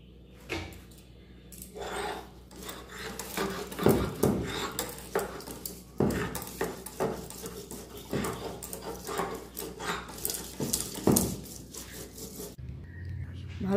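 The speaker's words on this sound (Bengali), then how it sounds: "এখন সর্ষে ফুলটা ছিলে বেটে নিচ্ছি।" Mustard flowers are ground into a fine paste on a stone slab: close, repeated gritty scraping and rubbing strokes in an uneven rhythm, with soft knocks between them.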